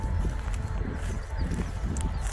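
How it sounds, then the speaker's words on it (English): Wind buffeting an outdoor microphone beside an overgrown pillbox, a loud continuous low rumble with gusty bursts throughout, no speech. "Sorry about the wind."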